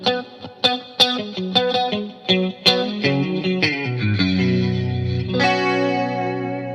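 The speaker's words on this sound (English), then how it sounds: "recreate those legendary 80s LA Session rack rig guitar tones" Electric guitar through an 80s LA session-style rack rig plays a quick run of picked notes, then rings into a sustained chord, all thickened by a shimmering chorus effect and light echo.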